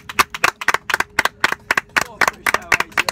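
Sharp, evenly spaced hand claps from a small group, about a dozen crisp beats in quick rhythm, close and loud with nothing else underneath.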